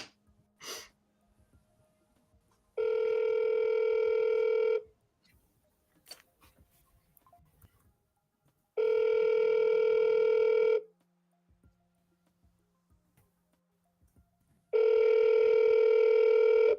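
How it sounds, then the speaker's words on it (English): Outgoing telephone call ringback tone, three long steady rings a few seconds apart with quiet pauses between, faint clicks in the gaps. "so let's call this number"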